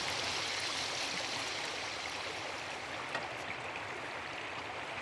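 Water runs steadily from a tap as a pan is rinsed out, a continuous close hiss and splash with no talk over it.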